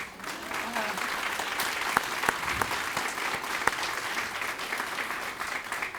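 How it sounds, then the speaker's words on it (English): A school crowd claps together for Crow Elementary School's 60th anniversary celebration in Arlington ISD, a moderate, steady patter of applause with a few sharper individual claps and faint voices mixed in. "let's clap for that, right?"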